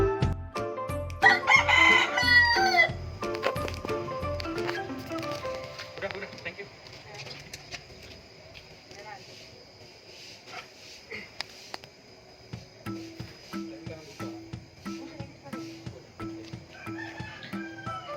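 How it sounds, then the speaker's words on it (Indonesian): A recorded rooster (Gallus) crows loudly near the start as a played-back sample, followed by quieter clucking and soft background noise, with a voice talking intermittently. "Jadi kita menggunakan suara ayam yang sudah saya gunakan"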